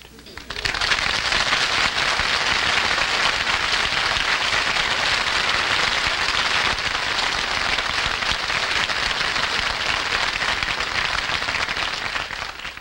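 A studio audience breaks into applause as Babyface Bogart, a vicious gunman, makes his entrance on a comedy radio show: a dense, steady roar of many hands clapping that holds at full strength for over ten seconds before easing slightly.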